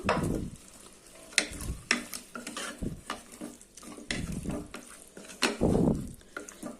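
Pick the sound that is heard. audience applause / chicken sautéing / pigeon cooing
chicken sautéing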